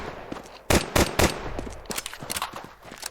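Gunfire in Counter-Strike 2: three loud, sharp shots in quick succession, then a run of lighter, scattered clicks and smaller pops.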